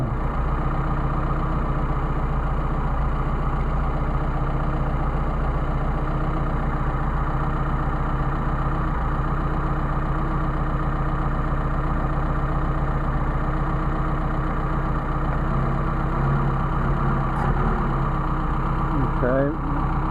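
A car engine with Solex 44PHH carburetors idles steadily and continuously at close range, a low droning hum with a faint knock, while a person speaks intermittently over it.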